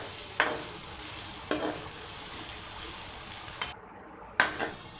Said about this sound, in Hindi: प्याज में अच्छे से चम्मच हिलाएं और अच्छे से इसे भून लें।